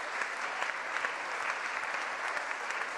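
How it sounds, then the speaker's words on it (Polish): Sustained, dense applause from a congress audience thanking the organizers, steady and close with even clapping texture throughout, no talk over it. "bardzo bym chciała, żebyście podziękowali oklaskami osobom, które przyłożyły się do tego"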